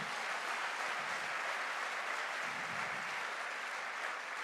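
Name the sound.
audience applause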